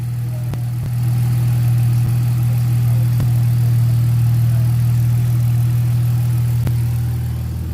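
A repaired BMW X5 turbo SUV with new O2 sensors idles steadily and loudly nearby, a smooth continuous engine hum with a few faint clicks and no talking.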